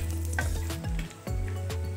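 Cumin seeds, bay leaf and dried red chillies hit hot oil, a close crackling sizzle mixed with squeaky, tonal scraping sounds that rise and bend, with no talking.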